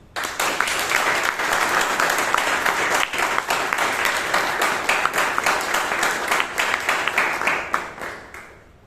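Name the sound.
audience applause for the general evaluator and evaluators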